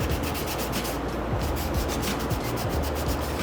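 Continuous close sanding of body filler on a 1948 DeSoto, a steady dense abrasive rubbing with even loudness throughout and no speech.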